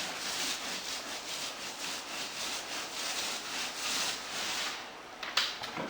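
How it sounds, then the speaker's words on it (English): A paint roller spreading primer across a patched drywall surface, giving a steady, close, continuous hissing rub with rhythmic back-and-forth swells and no talking. "Work the paint into the surface here, so I'm going to turn the roller so it's perpendicular here"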